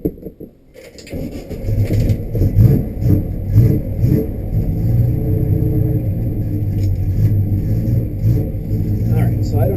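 A 1965 Chevelle with a Holley 600 cfm carburetor modified into a three-barrel setup catches and settles into a loud, steady, close engine rumble with slight rises in revs as it drives.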